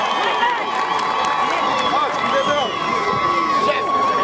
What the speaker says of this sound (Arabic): صفقوا لها صفقوا الأخت خديجة تافوكت